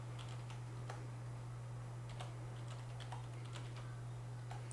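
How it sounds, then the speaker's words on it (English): Light keystrokes on a computer keyboard while entering an IP address, irregular clicky taps at a quiet level over a constant low electrical hum. "This is all you need to do is type in your IP address."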